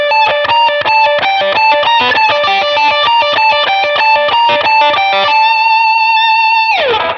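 Fast distorted electric guitar lick on only two strings, rapid picked notes in an even rhythm, then a held ringing note that ends with a downward slide.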